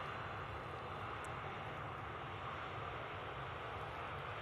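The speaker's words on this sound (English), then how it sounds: "EasyJet on the roll." EasyJet airliner on its takeoff roll at Manchester Airport, a faint, distant, steady engine roar with broadband rumble holding evenly throughout.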